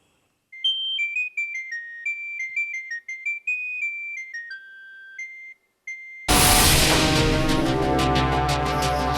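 An incoming call sets a phone's melodic ringtone chiming in clear, bright notes for several seconds in a quiet room, before a loud, dense burst of music abruptly takes over.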